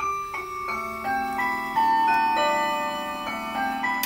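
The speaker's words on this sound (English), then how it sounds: "I guess you can hear I've turned my clock back on." A chiming clock rings a series of clear, sustained tones in a workshop, the notes overlapping and ringing on as each new strike lands.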